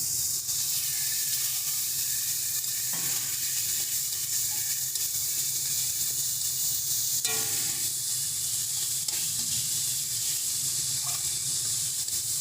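Water poured into a cooked spice masala in a hot pan for a vegetarian paneer curry sets off a loud, continuous sizzle and steamy hiss with a few bubbling bursts, close by and without talk.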